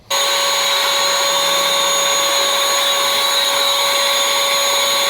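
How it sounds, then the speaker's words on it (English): A DeWalt 60-volt battery-powered leaf blower spins up and runs at a constant high-pitched whine, loud, steady and close. "I went and bought this blower here."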